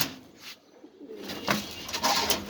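Farm pigeons coo in short, soft bursts at close range, with light rustling and a bit of wing movement between calls, building slightly in loudness toward the end.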